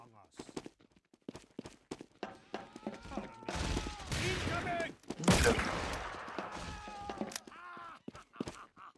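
Gunfire in Team Fortress 2 on a Murder Mod Assault map erupts in a dense mid-range burst of shots partway through. People talk before and after it, and sharp clicks and footsteps are scattered around the firing.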